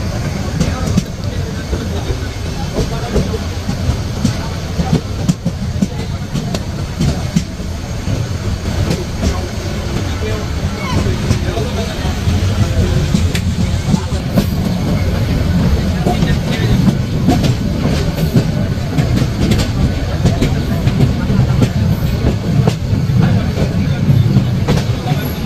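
Paryatak Express passenger train running on the Dhaka–Cox's Bazar line near Cox's Bazar station, a steady loud rumble of wheels and carriage with faint rhythmic clatter throughout, heard from inside.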